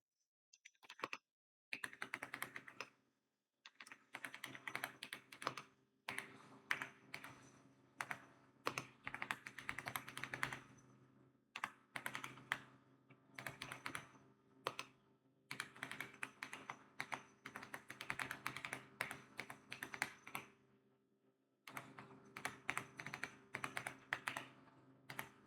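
Keystrokes on a computer keyboard clatter in bursts of rapid typing, broken by short pauses, close and fairly quiet with no talking, while code is entered during a software installation.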